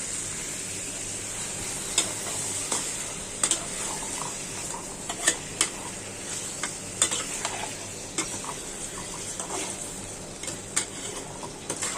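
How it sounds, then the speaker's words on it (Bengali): Chicken and raw onion fry in hot oil with a steady, bright sizzle, punctuated by light clinks and scrapes of a spatula stirring the pan every second or two. "আমি মুরগির মাংসটি দিয়ে দিচ্ছি, তেলে একটু ভাজবো"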